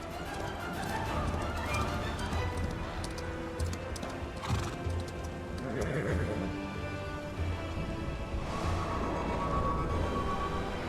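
Horse hooves clip-clop in the video game Chrono Odyssey, a loose rhythm of hoof taps running through a dense layer of game music and ambience, with a whinny mixed in.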